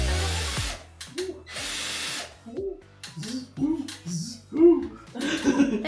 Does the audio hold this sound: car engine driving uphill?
no